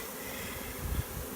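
A bee swarm hums as a dense, steady buzz that holds close and moderately loud, with a brief thump partway through.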